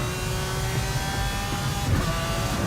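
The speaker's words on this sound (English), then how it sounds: "The car is too loud. What a cool engine!" A Lamborghini Aventador SVJ Roadster engine drones steadily and loudly nearby, a sustained tonal roar with a slight swell near the end.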